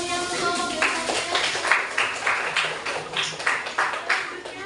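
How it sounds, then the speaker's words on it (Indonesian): Hearty applause for a student group, Dewi Sartika, during a classroom lesson. Rhythmic clapping runs throughout, fairly close, over background speech. "beri tepuk tangan yang meriah untuk kelompok Dewi Sartika"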